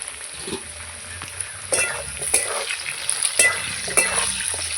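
Potatoes fry in a pan with steady oil crackle and sizzle, while intermittent stirring scrapes and clatters come close and fairly loud, with no voices.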